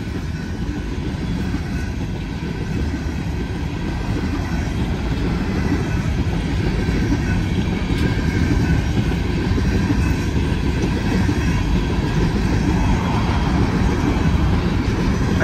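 An empty BNSF coal freight train led by locomotive 9100, with an NS AC44C6M in the consist and two distributed power units, rolls past northbound in a steady, loud rumble of wheels and cars that lasts throughout.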